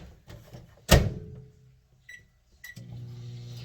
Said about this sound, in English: We'll pop it in the microwave for literally 5 seconds.